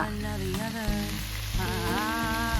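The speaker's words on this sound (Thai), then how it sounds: "แล้วก็ผัดต่อ" Vegetables stir-fried in a pan at a campsite, seasoned with fish sauce, sugar and salt: a steady loud sizzle with scraping stirs of the utensil against the pan, continuous throughout under faint background hum.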